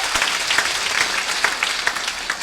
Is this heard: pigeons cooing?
no